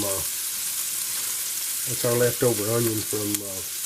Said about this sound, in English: what we're going to do is saute and sort of caramelize these onions down